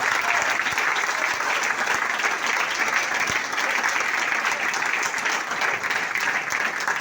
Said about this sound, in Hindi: हमारी सावित्री मैम के लिए जोरदार ताली होना चाहिए